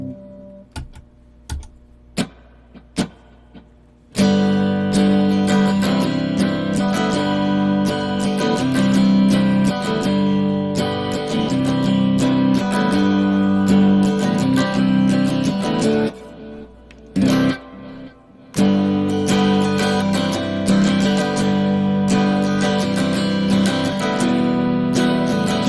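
Electric guitar on the bridge and middle pickup position plays a rhythm part through a tap-tempo delay, its strummed chords full and sustained with echoing repeats. A few sparse plucked notes come first, then dense playing that drops out briefly near the end before resuming.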